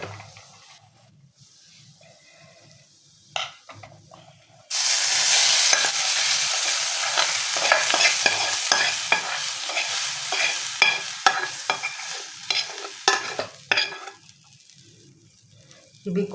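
Hot desi ghee tempering poured into mash chana dal erupts into a loud, sudden sizzle after a few quiet seconds, then hisses and crackles steadily before tapering off, close by and with no voices.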